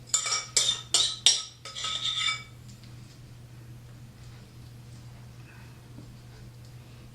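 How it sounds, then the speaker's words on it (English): Several quick scraping, clinking strokes of a utensil stirring fruit filling in a pie shell, bunched into the first two seconds, then only a low steady hum. "see if we can stir it around enough so that we have some of all the fruit"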